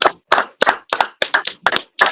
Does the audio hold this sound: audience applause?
yes